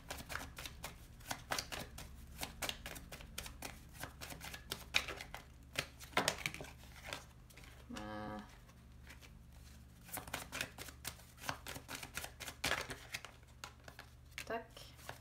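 Tarot cards are handled and laid down on a surface in quick, soft papery taps and shuffles, quiet and close, with a voice talking faintly in the background.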